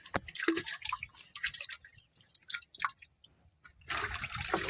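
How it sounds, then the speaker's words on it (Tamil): Fish amino acid liquid being poured into a mixing container on a natural-farming plot, heard as close, uneven splashing and dripping with short pauses, then a steadier gush of liquid near the end. "இந்த பாருங்கள், மீன் அமிலம் ஊற்றுறேன் பாருங்கள்."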